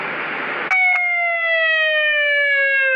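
Noisy hiss abruptly gives way to a loud, steady electronic ambulance siren tone with slowly falling pitch, continuing close and clear.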